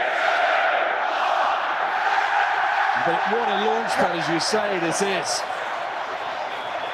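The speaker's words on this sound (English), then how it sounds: "Crowd celebrating, the clock has gone" A packed rugby stadium crowd roars continuously as England beat New Zealand's All Blacks in 2012, a sustained loud swell under a commentator's voice.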